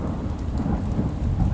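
Rain falls in a dense, steady wash with a low rumble beneath it, close and constant, with no voices.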